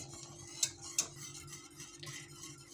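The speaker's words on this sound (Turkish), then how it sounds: "Kaynayana kadar karıştıracağız." A spoon stirs soup in a pot, giving soft scraping with a few sharp metallic clinks against the side, close and fairly quiet over a low steady background hum.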